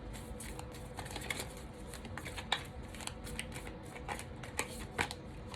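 Oracle cards riffle and slap as they are shuffled for a tarot reading, a quick, close run of papery flicks and taps with a few sharper snaps, steady throughout with no talk.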